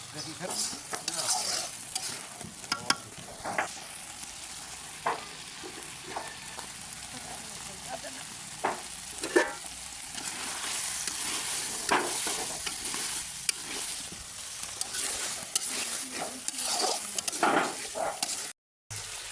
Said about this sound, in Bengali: আমি হচ্ছে যে গ্যাসে নিয়ে এসে আর একটু ভাজা ভাজা করে নিচ্ছি